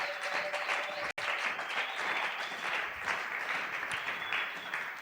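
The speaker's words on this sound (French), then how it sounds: "Acclamons très fort." A church congregation at a Sunday worship service applauds steadily, a dense unbroken wash of clapping from many hands for several seconds, briefly cut by one short dropout.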